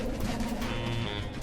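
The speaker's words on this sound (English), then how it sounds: "We need to spook all the birds." Soft, low pigeon-like cooing from birds in Night in the Woods, a steady murmuring coo that continues through the short moment, close and moderately quiet.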